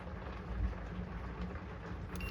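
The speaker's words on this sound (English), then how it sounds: "You guys can hear the rain outside." Rain falls outside in a steady, soft, even hiss with a faint low rumble beneath, quiet and continuous throughout.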